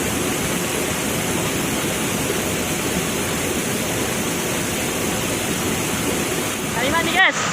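Lae Muntu waterfall in Aceh Singkil roars as a steady, loud broadband rush of falling water from start to finish, with a brief voice-like bit near the very end.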